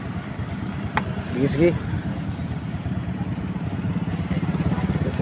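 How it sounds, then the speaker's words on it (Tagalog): A motorcycle engine runs in a steady close putter at night, with a sharp click and brief rising whine near the start, while someone speaks briefly over the idle. "ito po ating motor ay pinaghanda na, paanda natin"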